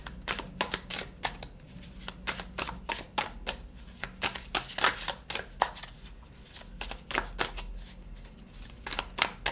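Tarot cards shuffled for a three-card draw give a long run of crisp, rapid riffling bursts in a steady, repeating rhythm. The sound is close and alone, with no talk.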